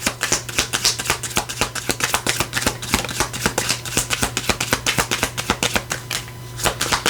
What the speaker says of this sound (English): I kind of botched that when I was shuffling.